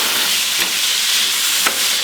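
Chopped shallots sizzle in a hot frying pan, a steady, loud broadband hiss that fills the whole stretch, with two brief sharper spits as the pan is stirred.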